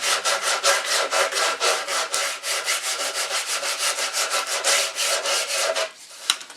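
Sandpaper rubbed by hand over a painted wooden chair, a loud, close, steady back-and-forth scratching in quick regular strokes that stops abruptly near the end.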